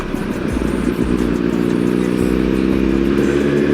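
Motorcycle engine running steadily while riding through a curve with the clutch held in, a loud, close, continuous drone with a slightly wavering pitch.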